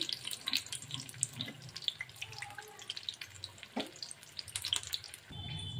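Chicken vegetable spring rolls deep frying in oil give off a faint, steady crackle and bubbling sizzle with scattered small pops, plus a soft clatter near the end.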